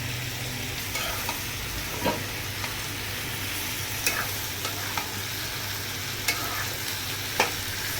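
Onions frying in a pan for a Bengali shrimp and tomato curry, a steady soft sizzle with occasional scraping stir strokes, close and continuous with no talk.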